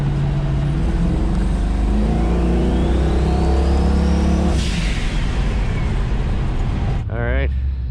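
Car accelerating quickly up to an 80 speed limit on an open road, a steady loud engine drone with rising tone and heavy road and wind rush, a whoosh near the end.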